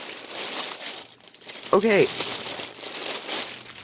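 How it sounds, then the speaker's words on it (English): A big plastic bag holding cross stitch kits crinkles and rustles as it is handled, with a person briefly speaking partway through over the ongoing crackling. "So we don't have to wrestle with this big old plastic bag."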